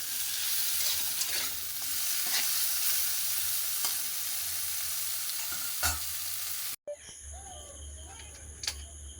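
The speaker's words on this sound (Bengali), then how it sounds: "এই যে বড়া ভাজা করব, ডালটাকে বেটে নিয়েছি।" Ground-lentil fritters (bora) with pumpkin flowers fry in hot oil in a home kitchen, giving a steady close hiss and sizzle that cuts off abruptly near the end, followed by quieter background noise.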